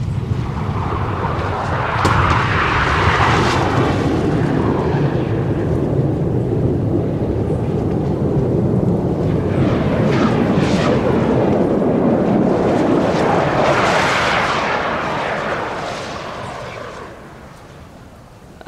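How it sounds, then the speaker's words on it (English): A deep, rolling rumble of wake turbulence from a passing Boeing 777 swells and fades twice, like gusty wind roaring through trees, and then dies away to near quiet. "That's the wake turbulence from that airplane that just went by."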